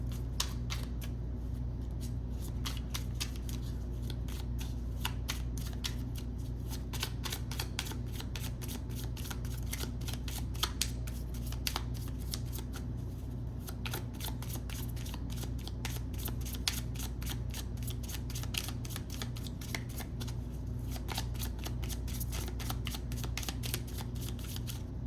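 Tarot cards are shuffled close up in a quiet room: a rapid, continuous riffle of soft crisp clicks that goes on steadily and fairly faintly for the whole span.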